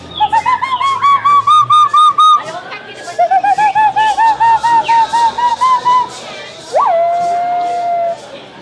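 A person's whistle imitates an owl or monkey call: a series of close, steady, fluttering hoots, then a louder run, ending with a single rising note that holds level.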